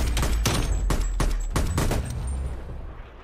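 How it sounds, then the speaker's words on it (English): Rapid automatic gunfire from a fast-firing gun in a video game, with a quick string of loud close shots in a steady rhythm that then tails off into a fading echo. "This gun seems pretty good. It's very fast rate of fire"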